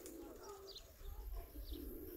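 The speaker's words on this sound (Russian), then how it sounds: "голуби полетят." Pigeons coo softly in low, throaty murmurs with a few faint chirps, distant and quiet against background noise.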